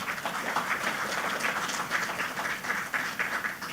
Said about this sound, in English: let us give you, the beneficiaries of the youth economy, a round of applause for taking that bold step